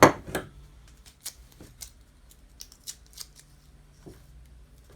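A piece of cardboard is taped in place under a broken wooden table during a repair, heard as a sharp rip of tape at the start followed by scattered faint crinkles, taps and rustles.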